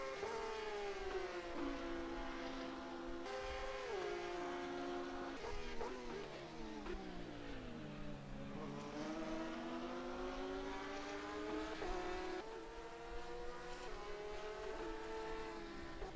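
An Audi GT3 race car engine in rFactor 2 revs hard and continuously, its pitch climbing and dropping through gear changes and braking. The tone is loud and close, with no voices.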